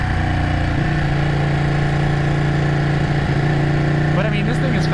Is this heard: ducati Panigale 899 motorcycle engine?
yes